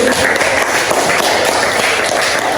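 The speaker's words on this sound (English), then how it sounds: "Give applause to Cindy." Classroom students applauding a classmate, a steady dense patter of hand claps filling the room, close and fairly loud with no pauses.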